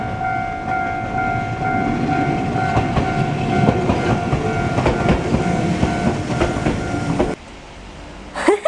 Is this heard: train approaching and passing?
yes